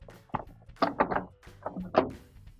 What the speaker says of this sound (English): And we can put our dispenser drawer back in.